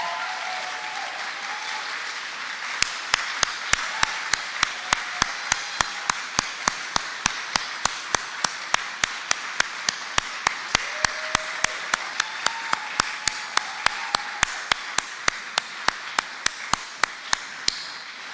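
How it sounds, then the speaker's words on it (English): An audience giving a long final round of applause, sharp rhythmic claps in a steady unison beat that build after a quieter start and carry on loudly without pause. "One final round of applause."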